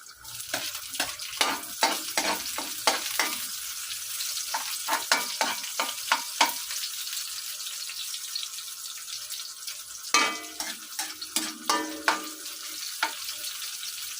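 Onions sizzle in a hot pan for a simple low-budget home dish, with repeated sharp scrapes of a spoon stirring them in quick bursts, then a pause and more stirring; close and fairly loud, no talking.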